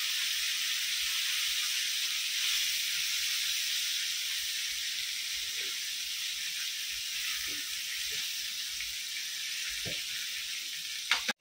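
Fish pieces frying in a shallow layer of oil in a home kitchen, giving a steady, even sizzle and hiss throughout with a few faint pops and clinks near the end and no talking.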